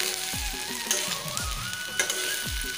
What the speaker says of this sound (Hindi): हमारे फरा में बघार लग गए